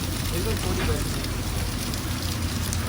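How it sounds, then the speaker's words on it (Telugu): Heavy rain pouring over cloud-covered hills, heard from a moving train as a dense, steady hiss mixed with rumbling, and a voice talks faintly underneath. "మొత్తం అయితే మబ్బులు అయితే కప్పేసినా ఫుల్ వాన అయితే పడుతుంది చూడండి"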